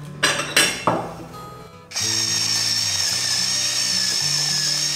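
A spice grinder crushes three or four whole star anise, starting with three sharp cracking crank strokes and then settling into a steady, close mechanical whirring grind that continues to the end.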